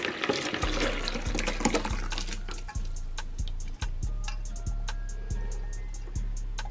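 Water pours into a container being filled for a steam bath, a steady close splashing with a faint rhythmic low thudding beneath it.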